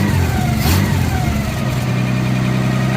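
A carbureted car engine revs steadily and loudly, a close, continuous mid-pitched roar with a slight swell partway through and no voices.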